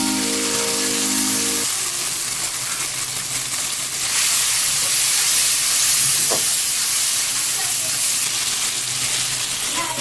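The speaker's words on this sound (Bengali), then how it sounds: "এখন আমি আবার একটু জল দিয়ে দিলাম।" Mutton curry sizzles in a hot pan as water is added, a loud, continuous hissing sizzle that swells and steams up midway, with a brief clink and no talking.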